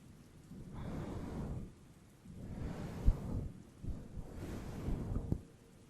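A thunderstorm in heavy rain: three long rolling thunder swells rise and fall, with a few sharp cracks over a steady hiss of rainfall.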